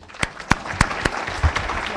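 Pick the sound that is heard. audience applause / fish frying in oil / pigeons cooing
audience applause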